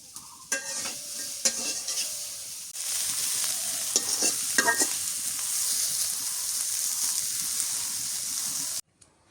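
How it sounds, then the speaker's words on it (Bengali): River fish frying crisply in a pan, a dense, continuous close-up sizzle with a few scraping stirs early on, running alone until it cuts off abruptly near the end. "মাছটা ভাজি হয়ে গেছে, এখন নামাই আনি। একদম করকরা করে ভাজছি।"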